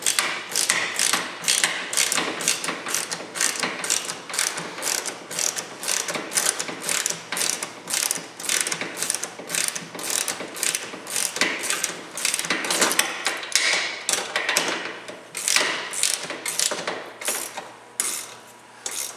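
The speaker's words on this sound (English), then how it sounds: "if you use your hand on the wrench, a ratchet like that," A hand ratchet wrench tightens the bolts of a Ryfab cargo rack, giving a long run of rapid, evenly spaced clicking bursts up close, with no talking.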